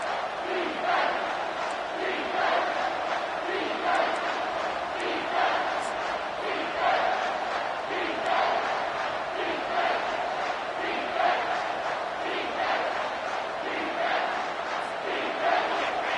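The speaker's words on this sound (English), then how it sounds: "here comes the noise. This crowd is trying to inspire this defense" A dense, continuous stadium crowd roar from a college football video game swells in steady rhythmic waves, loud and unbroken, with no distinct voices standing out.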